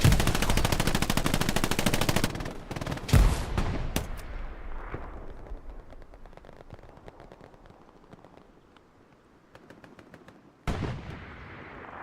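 Video-game machine gun fire on the Omaha West Vierville map in a multiplayer event, opening with a long, loud rattling burst, then scattered distant shots and echoing rumbles, and another sharp burst near the end.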